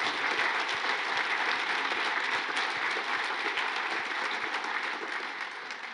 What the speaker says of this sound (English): it deserves a special applause